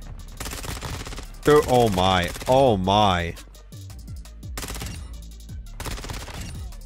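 Bursts of SMG fire in Call of Duty Modern Warfare 2 crackle in rapid runs, loud and close, broken by a gap where a voice exclaims over the action, then resume with further bursts and mechanical clicks.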